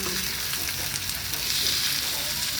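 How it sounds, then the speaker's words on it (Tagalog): Corned beef and potatoes fry in a pan with a continuous bright sizzle and crackle, close and steady throughout. "nilagay ko na yung ating corned beef"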